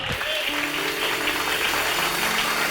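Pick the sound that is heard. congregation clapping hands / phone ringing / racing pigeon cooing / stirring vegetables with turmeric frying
congregation clapping hands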